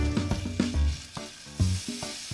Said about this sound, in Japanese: フライパンにサラダ油をひいて、鶏ひき肉、人参を炒めていくよ。